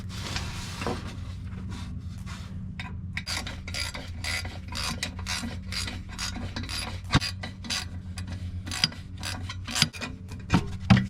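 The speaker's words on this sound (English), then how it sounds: "Next, we're gonna disconnect our V-band clamp" A V-band clamp on the downpipe of a BMW M340i with a B58 engine is loosened with a ratchet, making a steady run of quick clicking and rasping strokes close by, with a few louder clacks near the end.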